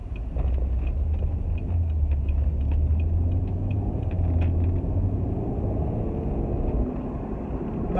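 Audi TT 3.2 coupe with a DSG gearbox driving on the road, its engine a steady low rumble with smooth, even tone and faint ticking, no voices.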